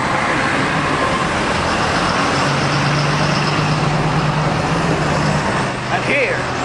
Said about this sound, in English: Ah, traffic!